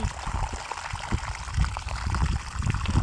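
Water drains from a 22-year-old hot water heater being flushed with vinegar and splashes onto snow outdoors, a steady faint gurgling pour with irregular splatters throughout.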